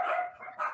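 Dogs bark in a short burst, a couple of sharp, fairly close yips and barks lasting under a second with no talk over them.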